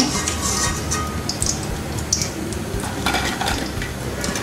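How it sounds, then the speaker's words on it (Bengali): Oil sizzles steadily as onion fritters fry, with occasional clinks and scrapes of a utensil against the pan. "এক করে আমি সবগুলো পেঁয়াজ ভেজে নিব"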